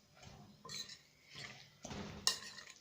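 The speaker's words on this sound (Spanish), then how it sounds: "Colocamos un poco de sal. Y continuamos revolviendo." Soft scraping and clinking as a Mapuche cochayuyo seaweed salad is stirred in a bowl after salt is added, a few quiet intermittent strokes with one brighter clink near the end.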